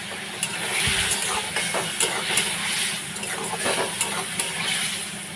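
Pointed gourd hits hot, well-fried masala in a pan and sizzles loudly, with a steady frying hiss and stirring scrapes throughout, close up and without talk.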